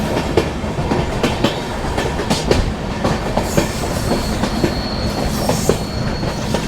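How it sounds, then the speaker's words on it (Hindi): A train with a banker locomotive climbs a curving ghat section, heard from on board as loud, steady rumbling with repeated clickety-clack wheel beats and a few faint squeals, with no voices. "वो आ रहा है बैंकर लोकोमोटिव"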